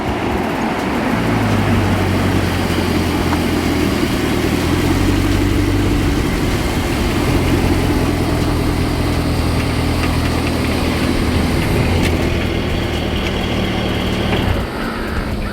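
Supercharged V8 of a 2013 Jaguar XKR Special Edition revving hard, a loud, close, continuous roar with sustained high-rev throttle and rumbling exhaust, fading slightly near the end.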